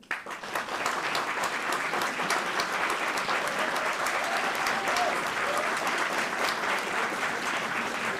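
A cinema audience at a live event bursts into applause to vote for a film, with dense, steady clapping from many hands that holds at an even level throughout.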